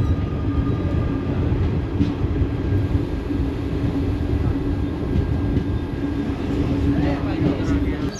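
Steady loud rumble of the Mysuru–Talaguppa Intercity Express running on the line toward Tarikere, heard from inside the coach with constant rattling and no breaks in the noise.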